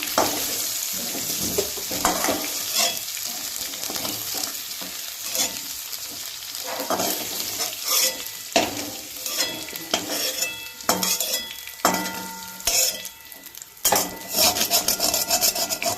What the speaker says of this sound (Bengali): এই মাছের তেলেই আমি কিন্তু ভেজে নিয়েছি দেখুন আলুগুলো আর কচু খুব সুন্দর করে ভেজে নিয়েছি